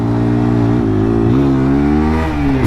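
A 2026 TVS Apache RTR 160 4V, a 160cc motorcycle, pulls away in first gear, its engine droning loud and close with the pitch rising and dipping through a couple of revving surges.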